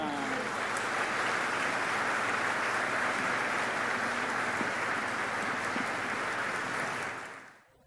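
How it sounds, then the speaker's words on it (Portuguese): Wedding guests applauding after a ceremony, a sustained wash of many hands clapping at moderate distance that stays even and then quickly fades out near the end. "E uma salva de palmas."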